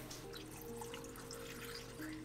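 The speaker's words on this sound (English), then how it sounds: "And then we're going to put some of this V8 Splash juice in here" V8 Splash juice being poured into a container, a soft trickling liquid splash heard quietly and up close, brief and alone without talk.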